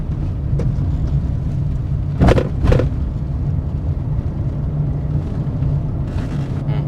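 A car in third gear cruises during a driving lesson on a road with speed breakers, a steady close engine and road rumble with two brief bumps midway, no talking.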